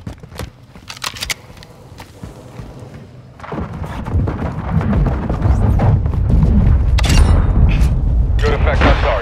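Airstrike explosions in Call of Duty Modern Warfare 2: a few scattered clicks and thumps, then heavy booming blasts that swell into a loud, sustained rumble lasting several seconds.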